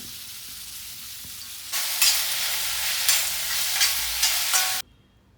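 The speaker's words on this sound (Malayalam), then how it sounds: "നമ്മൾ വെളിച്ചെണ്ണ ചൂടായ ശേഷം ഉള്ളി പച്ചമുളകും നമുക്ക് വഴറ്റിയെടുക്കണം" Onion and green chilies hit hot coconut oil in a clay pan and break into a loud, steady sizzle after a quiet start, with stirring scrapes running through it until it cuts off abruptly near the end.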